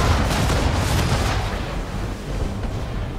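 Ship cannons fire a broadside in Assassin's Creed 3, a dense, loud rumbling roar of overlapping booms that rolls on continuously.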